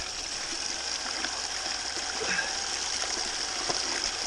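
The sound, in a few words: water flowing through gold sluice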